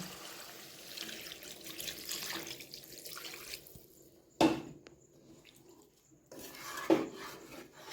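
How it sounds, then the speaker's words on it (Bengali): Water poured into a pot of chicken curry to make the gravy, a splashing stream followed by a couple of sharp clinks of a metal vessel, close and fairly soft, with no voices. "এটার মধ্যে ঝোলের জন্য পরিমাণ মতো জল দিয়ে দেবো"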